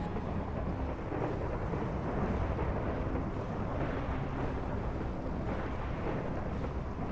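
Lightning strikes in a Minecraft world set by the Nusa Tenggara Timur sea bring a heavy, continuous rumble of thunder with a rain-like wash, loud and sustained with faint repeated cracks, no voices.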